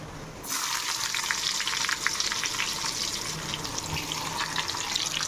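Cumin and jakhiya seeds hit hot oil with a sudden loud sizzle that starts abruptly and holds as a steady, crackling hiss close by, with no talking.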